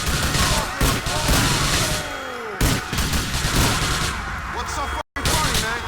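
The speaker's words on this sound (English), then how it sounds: "In the Going Deep mission, he very much enjoys shooting the news officers." Bursts of gunfire in GTA as Ray Bulgarin shoots news officers, with repeated loud volleys and a brief sharp cut-out near the end, mixed with other game sounds and possible voices.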